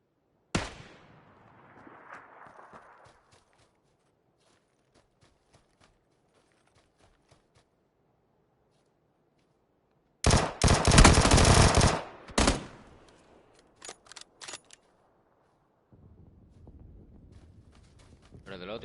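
Gunfire in PUBG on PS4: a few isolated shots, then a loud burst of automatic fire followed by several sharp single shots. Quiet stretches separate them, with some low talk and background noise.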